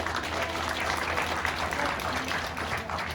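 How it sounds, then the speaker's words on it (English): An audience applauds the Lieutenant Governor at a Colorado public event, a full, sustained round of many hands clapping at a steady level, with a low hum and some faint crowd murmur beneath it. "Let's give the Lieutenant Governor another round of applause."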